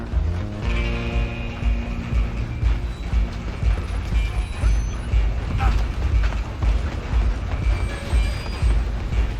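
A train rumbles along in the Red Dead Redemption 2 game, with steady heavy clatter, creaking and squealing metal close by, continuous and loud throughout.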